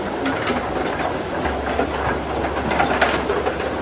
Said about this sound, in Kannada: ಈ ಮಿಲ್ಲು ಬೆಳಗ್ಗೆಯಿಂದ ಸಂಜೆವರೆಗೂ ರುಬ್ಬಿ ರುಬ್ಬಿ ರುಬ್ಬಿ ರುಬ್ಬಿ ರುಬ್ಬಿ ರುಬ್ಬಿ ಕೊನೆಗೆ ಫೈನ್ ಪೇಸ್ಟ್ ಆಗ್ಬಿಡ್ತದೆ